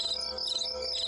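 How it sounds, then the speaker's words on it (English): Crickets chirp steadily in a backyard at night, a continuous high shimmering trill with no voices. "You can hear the crickets and stuff."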